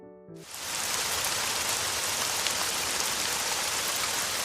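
Steady, dense rainfall patters on a surface, played as a sound for children to guess in an autumn kindergarten speech lesson; the hiss starts abruptly and continues evenly and fairly loud.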